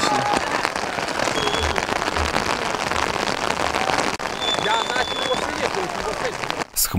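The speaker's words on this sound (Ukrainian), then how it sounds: "З хмарів, які цілий день блукали по небу, почав падати дощ" Steady, dense patter of rain falling outdoors, loud and continuous, with a brief dip near the end.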